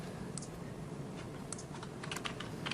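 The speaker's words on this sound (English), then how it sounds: "He's typing in the model number for this thing." Steady rapid typing on a computer keyboard as a model number is entered into a search box for a breaker tool handle, with dense continuous key clatter sped up and close, no voices.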